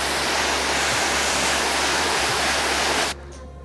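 Steady, loud rush of water spraying over rubber car floor mats, a dense hiss that runs for about three seconds and then cuts off abruptly, leaving a faint quiet tail.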